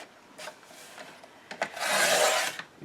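Paper being cut into strips for a 12x12 scrapbook layout, a close, dry rasping slice that swells for about a second, with softer scraping strokes before it.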